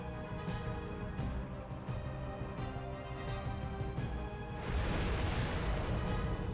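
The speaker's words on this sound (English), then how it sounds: "we just successfully attempted fire breathing with no previous experience" Loud, sustained roaring flame from fire breathing, a broad continuous rush that swells into a heavier whoosh near the end, with no talk over it.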